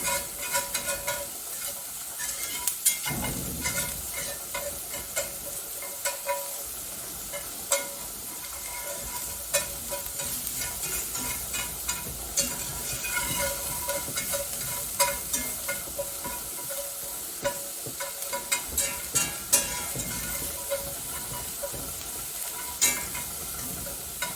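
Korean BBQ-style meatballs with four cloves of garlic sizzle and fry in a cast iron pan, a steady crackling hiss broken by scattered pops and occasional scrapes of stirring, with no voices.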